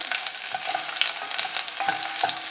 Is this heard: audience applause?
no